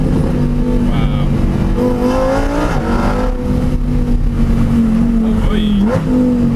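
A Lamborghini Murcielago SV and a Huracan Performante race uphill on a mountain road, their engines roaring loudly and continuously with rising and falling revs as they shift.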